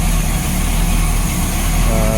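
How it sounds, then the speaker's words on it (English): A 1987 Bayliner Cobra 2250 with an OMC engine idles, a steady, loud low-pitched rumble with an even, smooth drone and no voices. "Just wanted to point out the noise from this engine is a lot smoother, a lot quieter."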